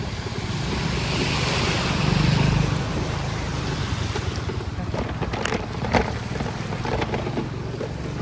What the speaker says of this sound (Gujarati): બે દાડાએ વરસાદ બંધ થયો જ નહીં, એક જ ધારે પાણી ચાલુ હે.